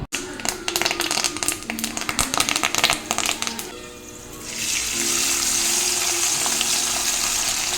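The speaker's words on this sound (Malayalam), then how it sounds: "തിളച്ച് കിടക്കുന്ന എണ്ണയിലേക്ക് വറുക്കുന്ന സാധനം കോരിയിടുമ്പോൾ കേൾക്കുന്ന ആ ഒരു ഒച്ചയില്ലേ" Cauliflower fritters dropped into boiling oil, first a flurry of sharp crackles and pops, then a loud, steady hissing sizzle as they fry, close up.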